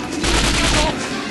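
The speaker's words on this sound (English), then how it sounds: "Take a couple pot shots." Rapid gunfire from the video game 007 Nightfire, a loud, dense burst of overlapping shots filling the whole moment with no pause.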